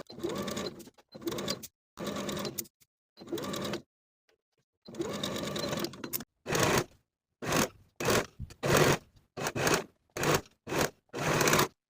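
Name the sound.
sewing machine stitching sleeve onto bodice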